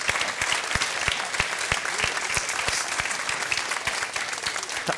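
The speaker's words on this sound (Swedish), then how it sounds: "Tack för den vänliga applåden." A studio audience at a televised Swedish bingo lottery show claps steadily for several seconds, a dense, even wash of applause with individual claps audible up front.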